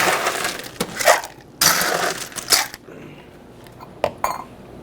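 Ice rattles and crashes in a cocktail shaker in a series of vigorous bursts with short pauses between, close and loud, as a drink of Tito's vodka and melon juice is mixed at an Italian restaurant bar.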